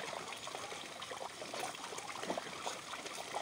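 Tap water runs steadily for hand-washing laundry, a continuous trickling and splashing stream close by with small gurgles and no voices.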